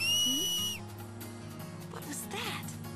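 A shrill, rising finger whistle from a Blitzball cheer in Final Fantasy X rings out loud for about a second, backed by steady game music and ambient crowd hiss.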